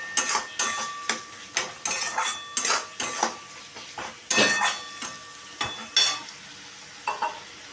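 A spatula stirs and scrapes spice paste in a hot pan for Bombay duck (lote fish) curry, making a brisk series of rhythmic metallic strokes and clinks over a faint sizzle, close and clear.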